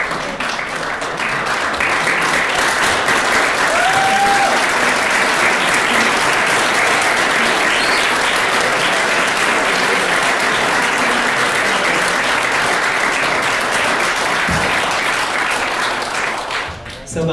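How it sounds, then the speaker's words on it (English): An audience at a 2017 Burien city council candidate forum gives long, sustained applause, a dense, even wash of many hands clapping close by that carries on loudly before tapering off at the very end. "Please hold your applause until after the speaker speaks"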